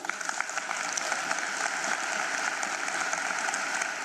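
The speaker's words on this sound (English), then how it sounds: "And a round of applause for Owethu." Audience applause for an award winner at a national matric results announcement ceremony, a steady sustained wash of many hands clapping at moderate level throughout.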